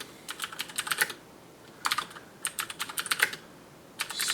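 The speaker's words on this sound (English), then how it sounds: "So let's type in a simple program." Rapid bursts of keystrokes on a computer keyboard as a simple program is typed for a vintage RC2014 serial-board setup, clustered clicks in short runs separated by brief pauses, close and clear with no talking.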